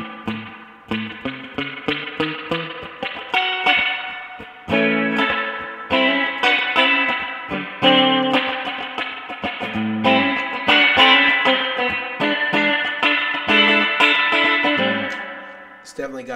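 Electric guitar chords through an analog reverb pedal wash out into a lush, spacious reverb, each strum blooming and ringing on, loud and continuous.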